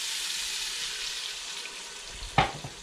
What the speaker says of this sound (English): Now I'm putting in 2 cubes of beef broth and 1 cup of water.